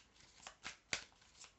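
Tarot cards being drawn and shuffled by hand during a reading, a few soft, quick papery flicks spaced across a brief, quiet moment.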